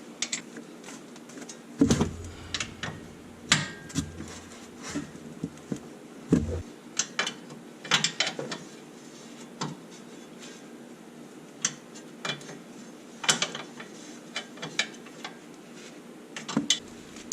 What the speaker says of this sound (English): we'll take our 18mm wrench. We'll go ahead and tighten up the axle retainer